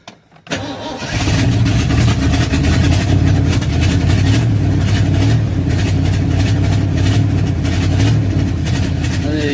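A cold engine without a choke on its carburetor cranks briefly and then catches, settling into a loud, steady, rough-running idle close by with no talk over it.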